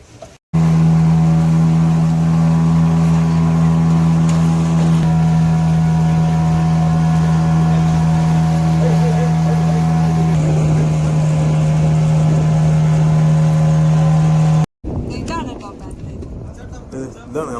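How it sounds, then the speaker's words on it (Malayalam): A boat's engine runs steadily and loudly at a constant pitch, near Gokarna's Paradise Beach, droning without a break for about fourteen seconds before cutting off abruptly into rougher open-air noise. "നമുക്ക് വേണ്ടി സ്വന്തം തയ്യാറാക്കിയ സ്വന്തം ബോട്ട്."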